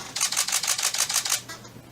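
A Canon 80D DSLR fires a rapid burst at about seven frames per second, a string of crisp, evenly spaced mechanical shutter clacks that stops after roughly a second and a half, close and alone.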